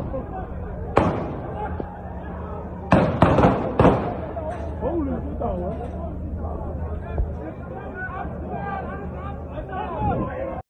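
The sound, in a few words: gunshots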